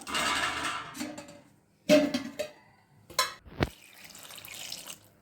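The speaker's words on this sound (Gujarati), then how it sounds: "આ બે ગ્લાસ પાણી નાખ્યા છે" Two glasses of water are tipped into a cooking pot for spinach-paneer pulao, heard as separate short splashing pours with pauses between them, close and fairly loud.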